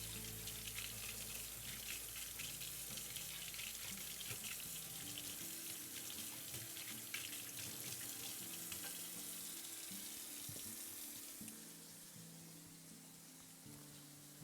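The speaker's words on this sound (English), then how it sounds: "I'm gonna start washing some stuff off. I got my knives to clean. I still got my peeler to clean." Tap water runs into a kitchen sink while knives and a peeler are washed, a steady close splashing that changes tone partway through and eases toward the end.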